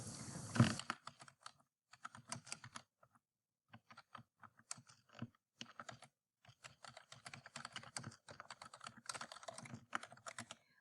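Typing on a computer keyboard in a quiet room, heard alone at close range: a sharp opening clack, then irregular runs of light key taps separated by short pauses.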